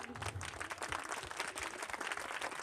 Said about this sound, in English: So please share a big round of applause for English Zone community.